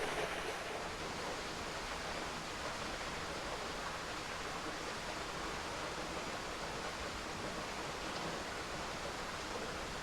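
A steady, roaring rush of falling water, constant and loud throughout, like standing near a waterfall in Alabama, with no voices.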